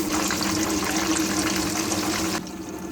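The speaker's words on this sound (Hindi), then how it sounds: "अब हम कढ़ाई में डालेंगे ऑयल।" Cooking oil poured steadily into a kadhai (wok) for frying chicken nuggets, a continuous close liquid splash that stops abruptly near the end.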